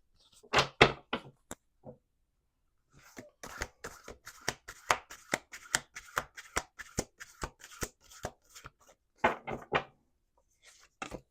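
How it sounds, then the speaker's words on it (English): A deck of oracle cards being shuffled by hand, with a quick riffle, a pause, then a long run of sharp, evenly spaced card slaps and flicks, ending in another dense burst of shuffling, close and clear. "Let's do one more shuffle."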